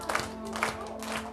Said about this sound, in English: I'm going to need your clapping hands for this one.